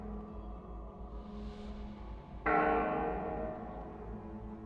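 An ominous bell tolls in World of Warcraft, a low sustained ring that swells and then strikes sharply again partway through, loud and resonant over a dark ambient bed.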